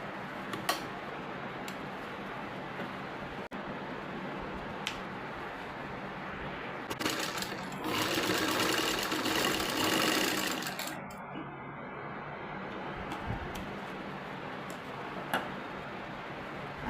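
Domestic sewing machine stitching a baby frock, brief runs and ticking clicks giving way to a louder sustained burst of rapid mechanical whirring, then settling back to scattered ticks close by.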